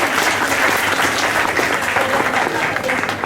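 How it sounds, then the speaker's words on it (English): Audience clapping at a Children's Day program, a dense, steady round of applause from a crowd of many hands, loud and continuous throughout. "Big round of applause."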